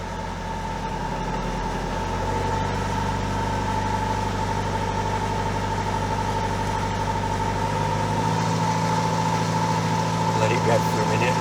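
A Citroen Relay van engine, just serviced, runs at a steady idle with a low continuous drone and faint misfire roughness, close and loud, while someone speaks over it.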